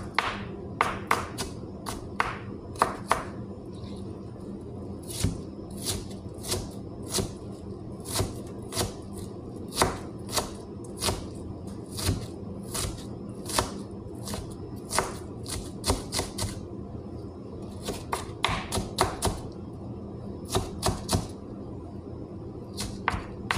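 Tomatoes and onions chopped into small pieces on a board, a long run of sharp knife taps in irregular bursts with brief pauses between them, close and crisp, no voices.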